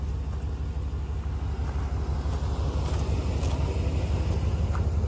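A Chevy pickup truck fitted with a front trailer hitch idles and creeps while maneuvering boats, a steady low engine rumble held close and constant with no speech.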